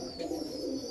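Low, continuous cooing from a group of male pigeons in a loft, a steady close rumbling murmur.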